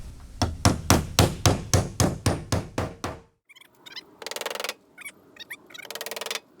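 A hammer drives nails into the wooden deck of a trailer, about a dozen loud, evenly spaced strikes in quick succession, followed by quieter, irregular tapping.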